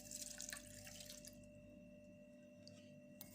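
Water running steadily into a cooking pot from a tap, a continuous close splashing stream with a faint dripping tail, no voices.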